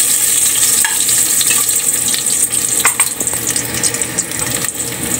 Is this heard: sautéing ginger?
yes